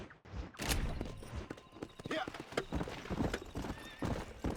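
Horse hooves clip-clop steadily in Red Dead Redemption, with a whinny breaking through the rhythmic gait, close and clear while a person talks over it.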